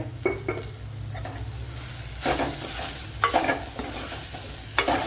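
Sautéed onions being stirred with Kashmiri chili powder in a pan for pumpkin curry, giving a steady sizzle with intermittent scraping strokes of the spoon, close and alone.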